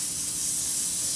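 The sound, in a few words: spray adhesive being sprayed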